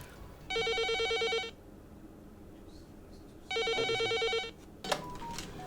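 A telephone at a crisis pregnancy counselling hotline rings with two long electronic trilling bursts separated by a pause, clear and close, followed by a brief click as it is picked up.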